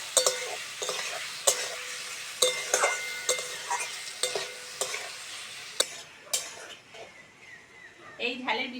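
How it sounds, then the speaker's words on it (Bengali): Tomato and onion fry with salt in a pan for a homestyle Lailentika fish jhal, a soft continuous sizzle punctuated by frequent sharp clicks of a spoon scraping and tapping the pan. "এবার টমেটো আর পেঁয়াজটা ভালো করে লবণের সঙ্গে ভেজে নেব।"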